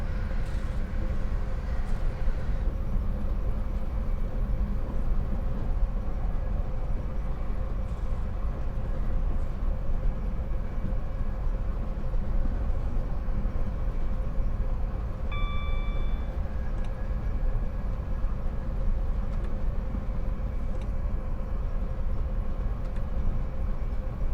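A British Rail Class 460 electric train running in the PC game Train Simulator Classic, carrying a constant cab rumble and motor whine throughout, with a brief tonal chime partway through and no speech.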